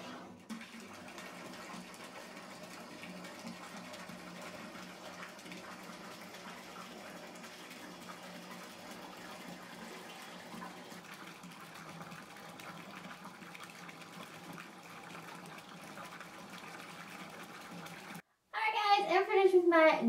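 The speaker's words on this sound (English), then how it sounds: "So I'm going to fill up my tub the rest of the way and hop on in here" A bathtub fills with water from the tap, a steady close rushing gush that runs alone for a long stretch before a person begins talking at the end.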